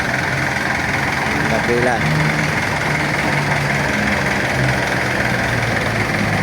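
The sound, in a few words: jeepney engine running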